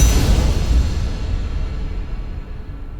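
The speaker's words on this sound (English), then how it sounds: "This is what I call the anvil sound." A metallic anvil strike from the Native Instruments Rise and Hit library lands loud at the onset and rings on as a long, slowly fading metallic tail for about three seconds.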